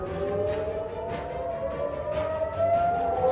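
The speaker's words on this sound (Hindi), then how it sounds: "शुक्रवार की सुबह इसराइल के हाइफा और गैलिली क्षेत्र में हवाई हमलों की सायरन सक्रिय हो गए थे।" Air raid sirens wail across Haifa and the Galilee region of northern Israel after a ballistic missile launch from Yemen: a steady, sustained, slightly rising drone, moderately loud and somewhat distant, over background rumble, with no talking.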